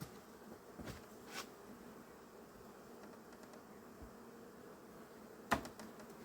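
Honey bees shaken from a hive frame during a varroa mite check buzz in a soft, steady drone, with a few faint knocks and one sharper tap near the end.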